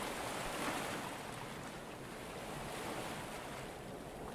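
Steady ocean waves and surf wash continuously in the Stormworks video game, with a broad rushing roar and a breezy wind layer throughout, moderately loud with no voices.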